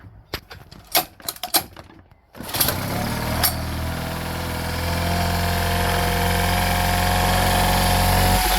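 An older Honda outboard motor with a single carburetor is pulled to life after a few sharp clunks and rattles, then settles into a steady, fairly high idle that drones on and swells slightly louder.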